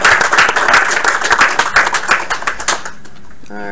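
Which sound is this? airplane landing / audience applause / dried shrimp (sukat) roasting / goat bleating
audience applause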